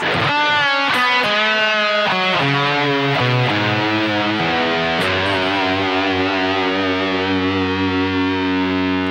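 Distorted electric guitar plays the closing phrase of a rock song, a run of quick notes settling onto a long sustained low note, loud and alone with no talking.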